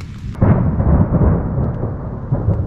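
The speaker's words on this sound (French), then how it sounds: "Il y a un orage dehors, je vous dis pas, je crois que c'est le plus gros orage que j'ai jamais entendu." Loud thunderstorm heard from inside a tent, with a heavy continuous rumble of thunder and rain drumming overhead, swelling sharply after a brief quieter start and staying dense throughout.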